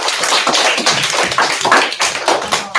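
Classroom applause after a student's demonstration of paper butterfly desk decorations: a burst of many hands clapping together, loud and close, steady for a few seconds with no talking.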